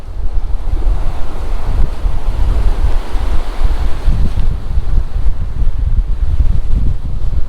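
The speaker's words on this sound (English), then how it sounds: "Man, this wind is whipping." Strong wind buffets the microphone on a beach, loud gusty roaring rumble mixed with surf, continuous throughout with no voices.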